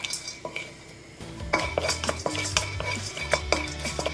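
Star anise is dry roasted in a pan for Goan garam masala, with clattering metal as a spoon stirs and scrapes. A few sharp knocks sound against the pan and a low hum runs underneath.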